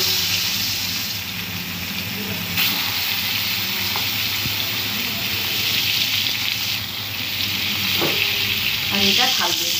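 Fish frying in a pan makes a loud continuous sizzle and spatter, with occasional utensil clicks and stirring noises near the end.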